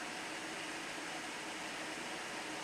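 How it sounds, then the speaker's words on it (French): Cooling fans of an Excelvan CL720D video projector run in a quiet room, giving a faint, steady broadband whoosh that stays constant throughout with no other sounds. "quand il n'y a pas de bruit dans la pièce, hormis celui du vidéoprojecteur, on est à environ 57 voire 58 décibels"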